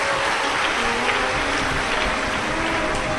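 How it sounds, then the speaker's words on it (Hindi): Steady applause from a large audience at a Shiv Mahapuran religious discourse in Sehore, a continuous rain-like patter of many hands, fairly soft and even throughout, with no voices over it. "एक बार जोरदार ताली बजाकर आप सभी के लिए साधु का"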